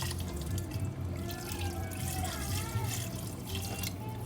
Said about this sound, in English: So I've got 3 cups of water here that I'm going to add it in.